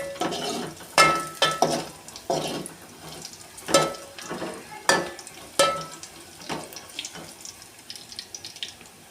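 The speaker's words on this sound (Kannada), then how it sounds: "ಬೆಳ್ಳುಳ್ಳಿ ಸ್ವಲ್ಪ ಬ್ರೌನ್ ಕಲರ್ ಅಂತ ಬರೋವರೆಗೂ ನೀವು ಸ್ವಲ್ಪ ಎಣ್ಣೆಗೆ ಫ್ರೈ ಮಾಡ್ಕೊಳ್ಳಿ" Garlic frying in oil for a lentil rasam: stirring and clattering in a pan with scattered sharp scrapes and knocks, a soft sizzle and watery background underneath, no voices.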